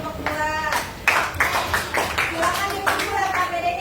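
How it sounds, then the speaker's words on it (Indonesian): Pupils in a classroom give a short round of applause for a group, with scattered uneven claps over a few seconds while voices talk underneath. "beri tepuk tangan dulu untuk kelompok 2"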